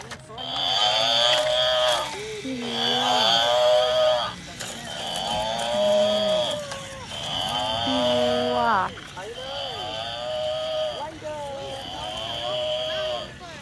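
A toy cow lets out a series of electronic moos, each a drawn-out, wavering call with short gaps between them, heard loud and close as it plays among other toys in sand, while someone talks over it.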